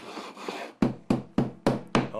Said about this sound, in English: use that dead blow rubber mallet, which I prefer, and to beat that tile down